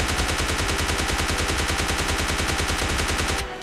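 Rapid automatic gunfire in PUBG Mobile Lite, a dense continuous burst of loud shots that stops abruptly near the end.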